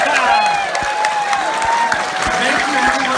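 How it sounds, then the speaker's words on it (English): An audience at Bronycon 2019 applauds and cheers steadily, a dense wash of clapping from a large crowd close by, with voices talking over it. "Can we like applaud for the people who are still coming in?"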